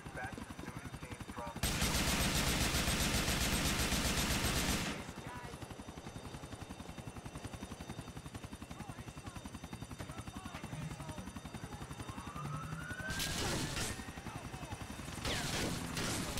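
Police helicopter rotor drones steadily through a Grand Theft Auto IV: The Ballad of Gay Tony gunfight, with loud bursts of automatic gunfire breaking over it and the thudding chopper noise continuing in between.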